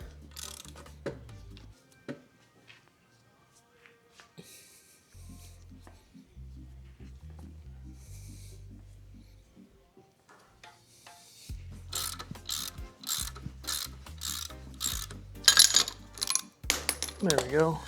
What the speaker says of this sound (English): Okay, I got a rental puller on there. Let's go ahead and see if it's gonna work.